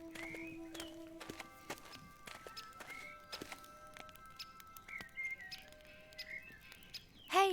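Small bird chirping in The Book of Unwritten Tales 2 video game, short high tweets scattered over quiet ambience with soft footstep-like clicks, ending in a louder warbling call.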